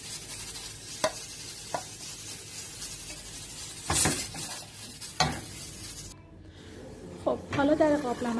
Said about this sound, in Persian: با دمای خیلی کم شعله رو کم میکنیم و آهسته آهسته کره رو به هم میزنیم